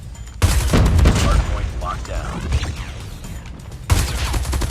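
Rapid bursts of submachine-gun fire from Call of Duty Mobile ring out loud and close, with a dense volley in the opening seconds, scattered shots and impacts after, and another burst near the end.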